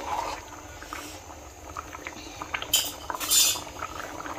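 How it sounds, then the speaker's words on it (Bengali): Pumpkin and shrimp curry with sliced tomatoes being stirred in a pan, giving soft scraping and a few bright utensil clinks against the metal over a low bubbling simmer, with no talk. "এখন আমি আবারও এটাকে নেড়ে ছেড়ে মিশিয়ে দেব।"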